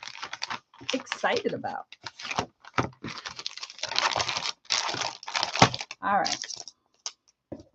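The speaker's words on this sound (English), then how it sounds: "That's a lot of crinkly paper." Crinkly paper wrapping handled close by in loud, dense bursts of crackling and rustling, broken by short pauses, with someone talking briefly over it.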